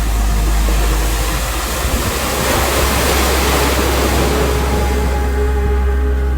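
Sea waves breaking on the broad beach at Foz in Porto, where the Douro meets the Atlantic, make a loud, continuous roaring wash of surf that fills the whole scene with no voices.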